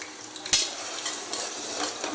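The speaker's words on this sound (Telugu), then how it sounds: "ఇది ఫ్రై చేసుకోవాలి." Onions and green chillies frying in a little oil give a steady bright hiss, with a couple of sharp stirring clicks against the pan near the start.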